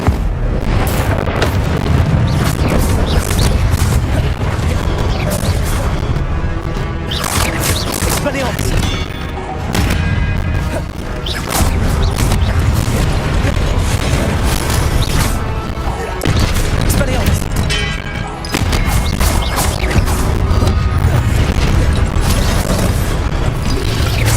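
An Incendio fire spell cast in combat in Hogwarts Legacy, heard as loud bursting booms and crashes within a dense, continuous wall of battle noise, with voices calling out throughout.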